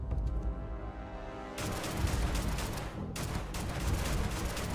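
Gunfire in the video game Starfield, dense bursts of rapid shots and rumbling booms layered over each other, loud and continuous throughout with no talking.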